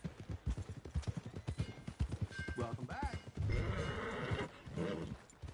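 Horse in Red Dead Redemption 2 with clip-clopping hooves and a whinny, steady hoof beats under game voices and ambient noise, with a character speaking briefly.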